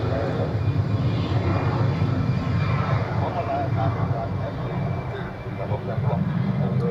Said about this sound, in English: here we have the Qatar A350